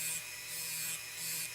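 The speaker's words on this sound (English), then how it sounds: "I'm pretty sure this sanding bit is getting worn out already" Dremel rotary tool with a worn sanding bit grinding on a screw in a plastic toy, a steady rasping whir that surges and eases in rhythmic passes, close and fairly loud.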